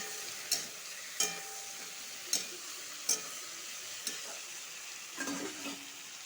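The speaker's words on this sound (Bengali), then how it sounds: "জিরা ধন্যার কাঁচা লঙ্কা পেস্টটা ভালো করে ভেজে নিব" A low, steady sizzle of cumin, coriander and green chilli paste frying in a pan, punctuated by about seven sharp spatula scrapes and taps at irregular intervals.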